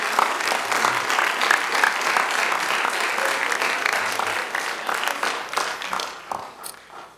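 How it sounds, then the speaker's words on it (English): A school audience applauds a group of graduating students at a senior awards night, dense steady clapping filling the hall and tapering slightly near the end. "let's give this group of students one more round of applause."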